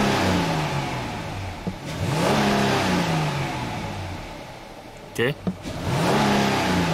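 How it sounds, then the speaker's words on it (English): A Dodge Charger engine with a flashing electronic throttle body light, revved by a quick snap of the throttle that rises and falls, followed by steady running; a brief spoken word and a clunk come in between. "So now I'm gonna step on the accelerator pedal."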